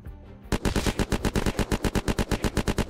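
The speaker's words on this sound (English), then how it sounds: "I'm getting shot from behind" Rapid automatic gunfire in the game Unturned strikes the player in a PvP firefight. After a brief quiet lead-in, a loud, steady stream of evenly spaced shots runs on without pause, with no talk over it.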